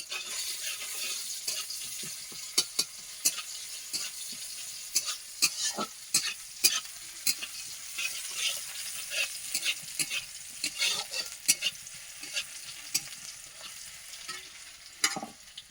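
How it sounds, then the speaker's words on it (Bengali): Whole cumin seeds stirred in hot oil, a soft steady sizzle with many sharp spoon scrapes and taps against the pan, close and fairly quiet, with no talking. "গোটা জিরে দিয়ে একটু নেড়ে ছেড়ে নেবো"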